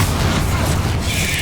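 A spell is cast in the Hogwarts Legacy video game: a dense, sustained magical blast with a booming low-end rumble that holds steady for about a second and a half.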